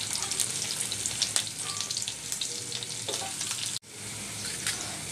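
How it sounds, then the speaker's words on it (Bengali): Cumin seeds, a small onion and chopped garlic frying in a little oil for a sweet pumpkin greens dish, a dense bright crackle and spit, near and steady, cutting out briefly before resuming, with no speech. "গোটা চিকেন জিরা ফোড়ন দিচ্ছি অল্প পরিমাণে।"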